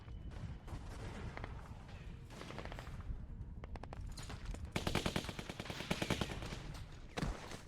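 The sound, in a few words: machine gun fire in The Walking Dead video game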